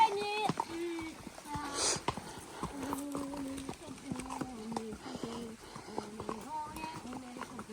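Pony hooves clip-clopping at a trot during an outdoor pony race, a steady rhythm of light hoof beats under near-constant talking voices.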